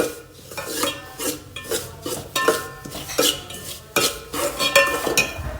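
A spoon scraping and clinking in a pan as semolina and sugar are roasted and stirred: rhythmic metallic scrapes and taps about twice a second, close and fairly loud, with no talking.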